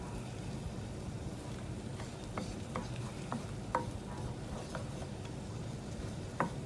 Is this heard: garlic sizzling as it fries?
yes